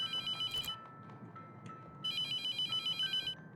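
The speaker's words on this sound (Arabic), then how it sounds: "نرد على التليفون" A telephone rings in the horror game The Mortuary Assistant, two bursts of bright electronic ringing separated by a short gap, close and loud with no voices over it.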